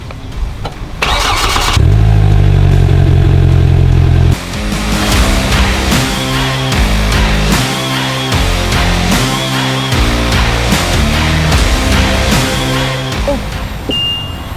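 An RV engine cranks and catches, then runs steadily at low speed on a test drive, loud and close with a constant rumbling drone and shifting engine tones, with no talking.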